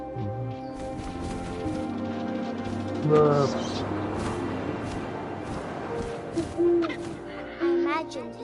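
An owl's hoots sound in brief bursts over a busy layered background of tones and a speaking voice, never standing fully alone.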